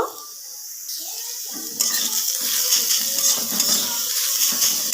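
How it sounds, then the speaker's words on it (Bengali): Grated potato and carrot with a few whole mustard seeds and salt fry in a pan, the sizzle growing louder midway as a utensil stirs and scrapes steadily through the mixture, close up and with no talk. "এবার সব কিছু খুব ভালো করে আমি একটু ভেজে নেব।"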